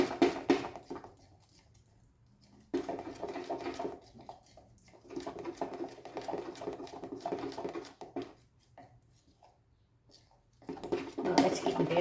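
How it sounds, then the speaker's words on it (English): A whisk clattering rapidly in a bowl while mixing homemade gesso, steady rhythmic scraping and tapping in several bursts with short pauses between them, fairly quiet and close. "Get some whisks going."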